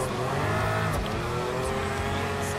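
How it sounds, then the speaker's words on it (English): Pagani Huayra mid-engine hypercar in Gran Turismo Sport, its engine producing a loud, steady, close-up drone with a rich harmonic buzz that holds without pause throughout. "look at the nice engine sound, it is very realistic"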